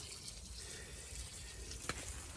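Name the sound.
water running while watering tomato plants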